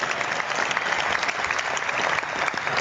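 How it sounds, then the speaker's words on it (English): A live audience at a football talk event delivers a dense, continuous round of applause for a foundation, an even wash of many hands clapping close and loud. "Big round of applause for the TP38 Foundation"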